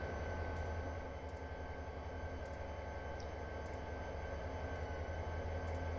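A CSX freight train rolls across a bridge, producing a constant low rumble and drone heard steadily throughout, with faint periodic clicks above it and no speech.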